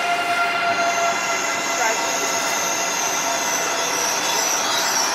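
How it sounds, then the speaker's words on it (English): A train pulls into a station at Disneyland Paris, a loud continuous rumble with high metallic squealing and whine, steady throughout with no pause, and some background voices mixed in. "we just waiting for our next train, but it's going to come along any minute."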